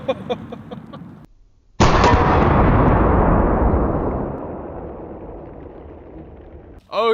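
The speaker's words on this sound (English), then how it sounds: "I've seen Scott from Kentucky Ballistic shoot these elephant guns quite a bit" An elephant gun fires a single huge, close blast that rolls away into a long echoing decay over several seconds, with talk before the shot and a voice returning at the end.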